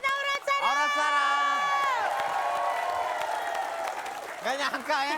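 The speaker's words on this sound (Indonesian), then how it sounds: "Tepuk tangan yang meriah sekali lagi dong buat Aurat Sarah." A studio audience at an Indonesian TV comedy show cheers and whoops loudly, with excited shouting voices rising and falling across several seconds.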